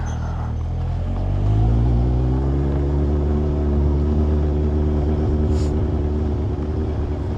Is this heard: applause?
no